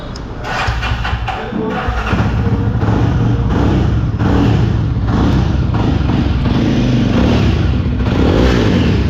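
A Jawa 42 motorcycle engine idles steadily and loudly throughout, a thumping, rumbling drone with a rough clatter, close by.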